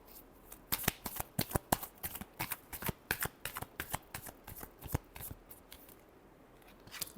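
A deck of cards is shuffled by hand for a horoscope card reading, making a series of quick riffling bursts in an uneven rhythm, close and fairly soft, with no voices.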